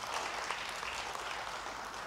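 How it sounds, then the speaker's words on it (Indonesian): A church congregation at a Bible study service applauds. The clapping is dense and steady but fairly faint, and it continues unbroken through the whole short stretch with no voices above it. "Yang mau beri tepuk tangan bagi dia."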